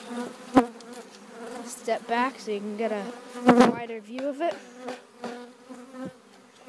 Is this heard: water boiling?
no